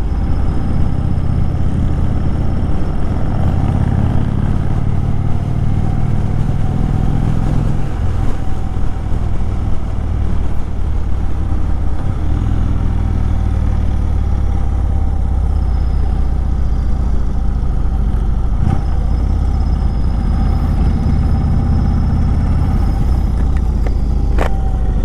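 A 2018 Indian Chief Dark Horse motorcycle's big engine rumbles steadily and loudly while riding at low revs, with continuous wind noise over the drone.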